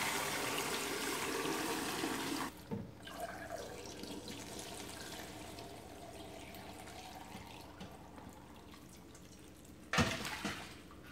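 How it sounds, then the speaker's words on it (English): Whey drains from halloumi curds through a fine mesh strainer into a pot, a soft steady trickle and splash of liquid with two brief louder pours, quiet and without talk. "Carefully pour the curds into the fine mesh polander."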